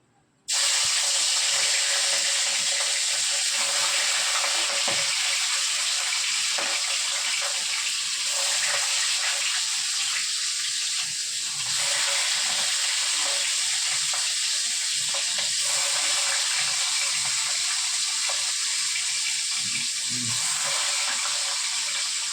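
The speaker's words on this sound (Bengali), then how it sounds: "এখানে কড়াই বসিয়েছি, মাছটা ভাজবো।" Fish coated in salt and turmeric sizzles loudly and steadily in hot oil in a wok, a continuous bright crackling hiss that starts abruptly and holds for the whole stretch.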